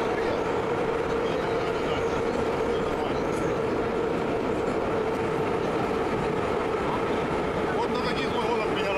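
Kharkiv metro cars roll past with a loud, steady rumble and a sustained mid-range hum, wheels drumming continuously throughout, while people talk faintly in the background.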